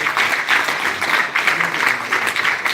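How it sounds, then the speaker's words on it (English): Crowd applause at a live Peter Obi event in Germany, continuous, fairly loud clapping from many people in a pulsing rhythm, with faint voices mixed in. "Can you clap to that?"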